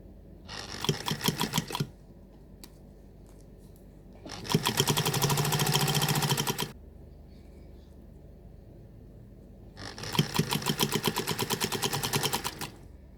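A sewing machine stitches a fabric lace zipper pouch in three steady bursts of rapid, even needle strokes lasting about one to two seconds each, separated by quiet pauses.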